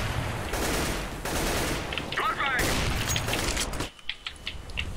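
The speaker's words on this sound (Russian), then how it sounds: "Кто там стреляет с того ВП" Gunfire in a CS:GO match, with bursts of shots from several weapons including an AWP sniper rifle, loud and layered, with a sudden cutoff near the end followed by scattered distant pops.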